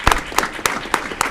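Applause from an audience at a city council committee meeting, a burst of rhythmic, fairly loud clapping with individual sharp claps standing out.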